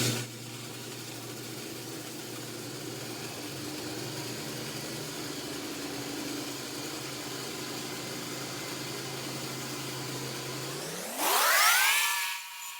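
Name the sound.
worktable sawmill slicing a cherry log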